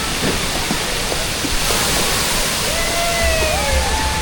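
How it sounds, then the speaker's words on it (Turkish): At a Bodrum hotel aquapark, a tipping bucket dumps its water in a loud, steady, roaring rush that fills the whole moment. Faint voices and whistles carry in the background. "Kova dökülüyor Maya."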